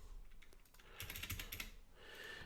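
Typing code on a computer keyboard, a quick flurry of close, soft key clicks in short bursts with brief pauses between them.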